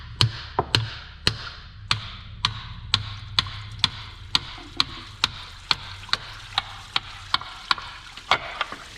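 Steady, evenly spaced metallic taps of a good-size hammer on a Ford Mustang water pump during replacement, about twenty sharp close knocks over a low background hum.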